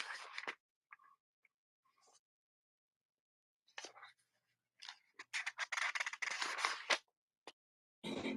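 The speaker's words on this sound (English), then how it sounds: "I can hear you doing something with Well, paper. I'm just flipping through this book." Paper pages of a book being flipped, heard as scattered soft rustling bursts with quiet gaps, growing into a denser run of page turns near the end; close and fairly faint.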